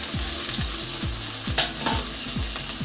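Goat blood stirred into onions frying in a pan, a steady sizzle under rhythmic scraping strokes of a spoon, with a couple of sharper clinks, close and alone without talk.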